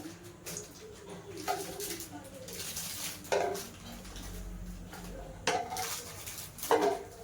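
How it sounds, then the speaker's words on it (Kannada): A metal frying pan is handled on the stove as two to three tablespoons of cooking oil are poured in, giving intermittent clinks and scrapes close by with a soft background hum. "ನಾನಿಲ್ಲಿ ಒಂದು ಬಾಣಲೆ ತೊಗೊಂಡಿದ್ದೀನಿ ಇದಕ್ಕೆ ಒಂದು ಎರಡರಿಂದ ಮೂರು ಟೇಬಲ್ ಸ್ಪೂನಷ್ಟು ಎಣ್ಣೆ ಹಾಕ್ಕೊತಾ ಇದ್ದೀನಿ"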